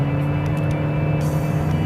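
Toyota Auris hybrid engine with a CVT gearbox holding constant revs, giving a steady low drone with a fixed tonal hum that stays level and unbroken throughout, heard from inside the car with no talk.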